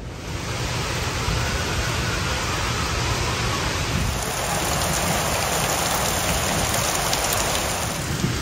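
Heavy rain pours down on a fifth wheel camper at Pike Lake State Park during a storm, a dense, loud, unbroken hiss of drops drumming on the roof and surroundings with no let-up.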